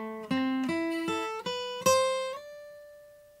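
Electric guitar plays part of a solo: five clear picked notes climbing the high string, with the last one sliding upward and left ringing out to fade, close and alone.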